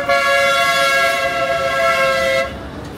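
A loud, sustained horn blares steadily for over two seconds close by, then cuts off, leaving traffic noise.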